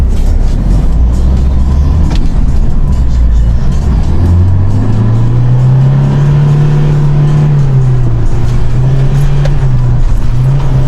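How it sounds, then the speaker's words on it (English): A van engine labours and revs steadily as it climbs a steep, bumpy sandy hill, the pitch rising and holding under strain, loud and close throughout. "We have a massive hill that we need to get up with the van on sand."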